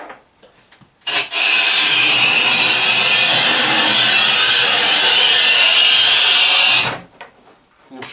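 A steady, harsh scraping rasp as a Shijing manual tile cutter scores a 1200 mm tile, running about six seconds at close range, starting and stopping abruptly, with faint sounds before and after.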